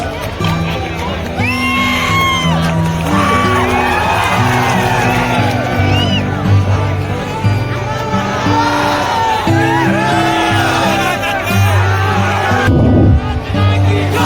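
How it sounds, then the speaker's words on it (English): At a school festival celebration at an academy in Hatsingimari, a crowd cheers and whoops with children shouting and screaming over loud music with a beat, a dense, sustained din welcoming the chief guest. "Please give a big round of applause for this prominent figure in front of you, please."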